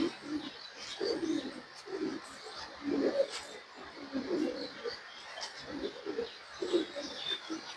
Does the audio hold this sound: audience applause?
no